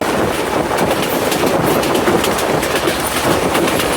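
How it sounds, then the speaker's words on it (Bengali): Loud, steady rumble and rattle of the Rupsha Express rolling into Khulna railway station, with a continuous clatter and no voices. "আমাদের ট্রেন ফাইনালি প্রবেশ করতেছে খুলনা বিভাগীয় রেল স্টেশনে"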